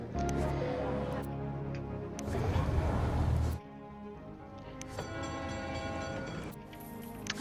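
Trains in the SimCity 2013 city-building game, with long sustained horn blasts and rolling rail rumble that fade and return, set against a steady game ambience.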